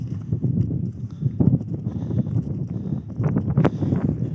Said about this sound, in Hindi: ये जनाब घोड़ा जा रहा था